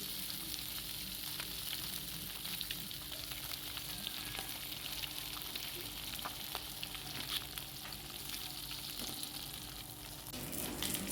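Food fries in hot oil with a steady, soft sizzle, and occasional clicks come as the pieces are turned over.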